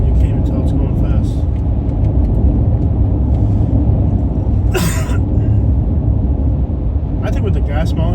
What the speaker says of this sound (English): It doesn't seem like we're going that fast with this truck.